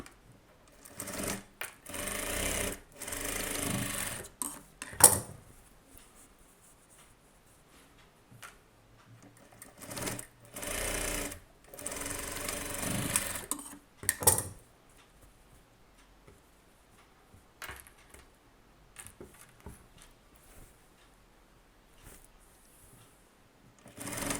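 A sewing machine stitches a close-neck blouse in several bursts of rapid mechanical clatter, each run lasting a second or two, separated by quiet pauses.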